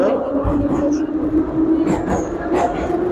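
A metro train in Tashkent rumbles steadily throughout, with loud continuous low roar and occasional high squeals from the wheels, heard from inside the car.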